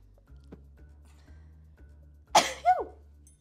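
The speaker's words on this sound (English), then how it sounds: "I have to sneeze." A single sharp sneeze bursts out close to the mic against a quiet indoor background with a low steady hum, followed immediately by a short vocal exclamation.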